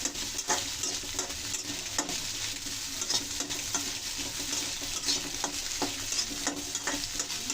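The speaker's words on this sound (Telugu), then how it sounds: "ఇప్పుడు దీని గుడ్డు, క్యారెట్, బీన్స్ అన్నీ కలిసేలాగా" Egg, carrot and beans stir-fried together for restaurant-style Chinese egg fried rice give a steady, close sizzle, broken by frequent scraping and tapping from the stirring utensil, with no talking.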